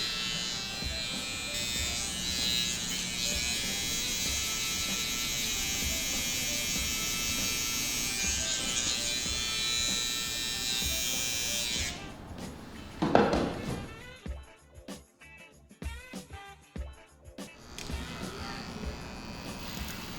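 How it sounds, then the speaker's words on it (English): Electric hair clippers buzz steadily and close by for about twelve seconds as they cut hair clipper-over-comb during a combover fade, then stop, followed by scattered taps and handling noises. "clipper over comb. I'm just going straight up into this length right through here."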